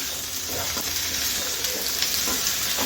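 Potatoes with okra being sautéed and stirred in a pan: constant loud sizzling and frying with repeated scraping stirs of a spatula, close and with no voices.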